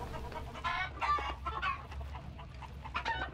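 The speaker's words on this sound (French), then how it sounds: "Alors, il y a des poules." Chickens clucking in the horror shooter game Hunt: Showdown, a cluster of near, repeated clucks and squawks over a low steady rumble of ambience, with no one talking.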